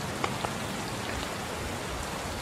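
Steady rain from an Unreal Engine 4 dynamic weather system falls as an even hiss of drops, with a couple of slightly louder taps near the start.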